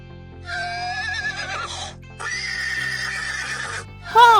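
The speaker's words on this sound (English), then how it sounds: "horse," A horse neighs twice in a row, a loud whinny with a wavering, descending pitch, followed by a short sharper squeal, all playing over light background music on a farm-animal theme.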